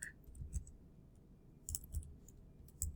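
Sparse keyboard clicks in small bursts with pauses between, fairly quiet, no voices.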